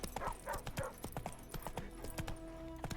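Horse hooves clip-clop in The Witcher 3: Wild Hunt on console, a steady run of close, fairly loud hoofbeats with no talk over them.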